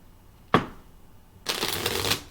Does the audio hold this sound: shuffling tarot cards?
yes